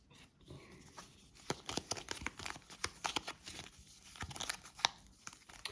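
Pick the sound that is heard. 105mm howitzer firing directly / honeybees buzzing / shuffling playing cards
shuffling playing cards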